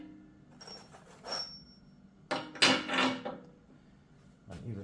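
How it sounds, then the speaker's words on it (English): Steel bolts being fitted into a tractor bucket hook plate, heard as a few scattered metallic clinks and rattles, close and fairly quiet, with pauses in between. "So we're going to put the bolts in."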